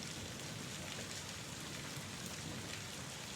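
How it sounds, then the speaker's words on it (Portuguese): Steady rainfall, a dense, even hiss of drops that continues without a break for several seconds, with no voices and no thunder. "ao som da chuva"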